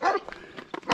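A large patou livestock guardian dog, a big white dog guarding goats on a country walk in the Drôme, lets out a quick burst of short, sharp barks at moderate distance within about a second.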